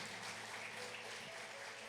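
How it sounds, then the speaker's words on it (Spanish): A church congregation applauding at a Spanish-language service, a brief steady wash of clapping, fairly faint and distant. "Denle un aplauso al Señor."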